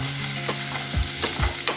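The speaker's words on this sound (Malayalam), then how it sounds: "ഇനി എണ്ണ ചൂടായി കഴിയാൻ നേരത്ത് അതിലേക്ക് ഒരു മീഡിയം സൈസ് സവാള അരിഞ്ഞത് ചേർത്ത് കൊടുക്കാം." Chopped onion sautés in hot coconut oil for Mangalorean-style chicken sukka. A steady close sizzle runs under several distinct scraping stir strokes of the spatula.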